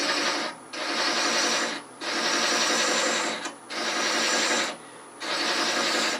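Lathe threading hardwood at close to 500 rpm with a quality scraper, a dense rasping cut in four long passes separated by brief pauses, steady and close with no talk.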